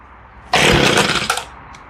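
A long-stored Echo leaf blower's two-stroke engine, choked for a cold pull start, fires once loud and close in a burst of about a second before it dies, with no talk.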